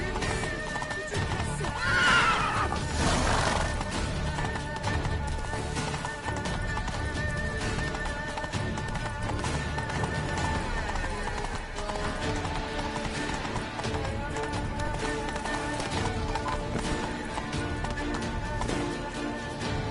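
Roach, the horse in the video game The Witcher 3, gallops with a continuous rhythmic clip-clop of hooves and gives a whinny early on, steady and fairly close over a game music bed.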